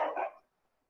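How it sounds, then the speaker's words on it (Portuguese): A dog barks outdoors, one short muffled bark at a distance that fades within half a second. "Tem um cachorro latindo ali fora."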